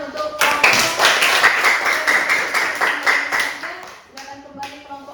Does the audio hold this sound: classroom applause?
yes